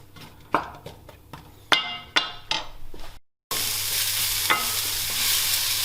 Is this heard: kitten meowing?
no